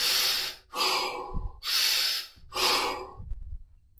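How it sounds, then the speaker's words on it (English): Fire breathing exercise: loud, rapid forceful breaths close to the microphone, three long rushing exhales in a steady rhythm, each followed by a sharp inhale. "Fire breathing. There's many different types of breathing."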